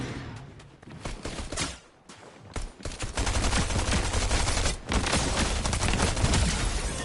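Rapid submachine gun fire in Fortnite rattles in dense, loud bursts, with a short gap after the first volleys and then a long sustained stream of shots close by.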